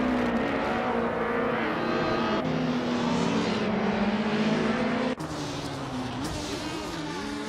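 Race cars in a video game race, including a 1999 Honda Civic Si: continuous engine drone and revving from several cars with pitch shifts as they pass, and a sharp cut midway, with no talk.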